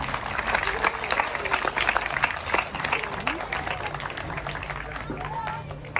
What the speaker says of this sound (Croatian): najprije njih pozdravimo jednim velikim aplauzom